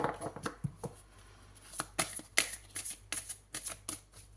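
Tarot cards being shuffled by hand, a series of quick riffling and slapping bursts in an irregular rhythm, close and fairly faint, with no talking.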